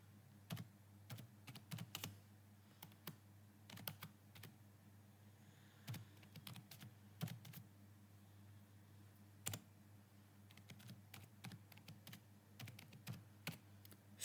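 Someone types on a computer keyboard, faint, quick, irregular key clicks arriving in small clusters over a steady low hum, no talking.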